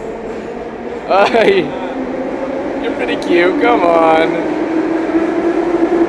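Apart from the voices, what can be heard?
metro train running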